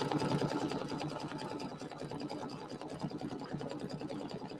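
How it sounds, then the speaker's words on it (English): A sewing machine stitches a decorative stitch over the pink inner ear of an appliqué bunny, running steadily and close with a fast, even mechanical chatter throughout. "we're going to do the little decorative stitch that's going to go over the inner ear"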